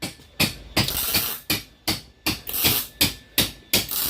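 Welding the A-pillars of a 1948 vehicle body down to the rocker panel produces a regular series of sharp, crackling bursts, each fading quickly, repeating about three times a second, close and loud.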